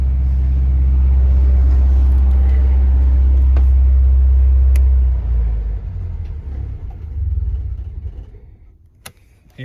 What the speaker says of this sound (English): now is a good time to shut off the generator